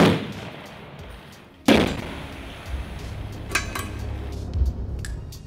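A loud sharp blast bursts out, followed by a rumbling tail and a few smaller cracks and thuds scattered through the background.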